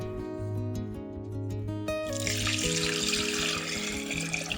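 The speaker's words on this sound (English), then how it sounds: "Pour in water." Water pours and splashes steadily into a saucepan holding eggs and salt, a rushing, hissing stream that starts partway through over a background of sustained tonal sounds.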